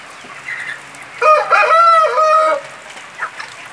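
A rooster crows once, loud and close, with free-range hens clucking softly before and after it in a henhouse on a farm.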